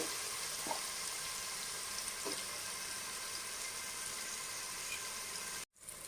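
Chopped onions frying in oil in a pan for a crab curry, giving a steady, fairly faint sizzle that runs unbroken with a couple of soft stirring clicks, then cuts out briefly near the end.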